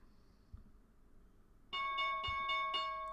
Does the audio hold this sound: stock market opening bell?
yes